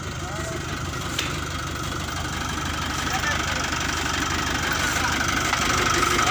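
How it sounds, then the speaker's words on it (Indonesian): A tractor engine runs at a steady idle during a heavy-load recovery, a continuous rumbling chug that grows slightly louder toward the end. "Kita coba pakai traktor guys."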